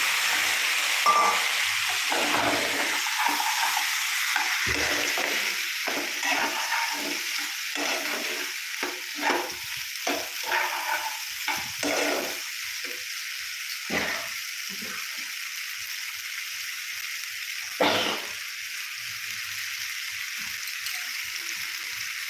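Spices sizzle loudly in a hot pan for pasta under a dense, steady hiss, with the clatter and scrape of stirring pulsing through it.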